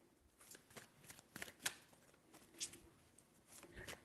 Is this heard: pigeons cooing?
no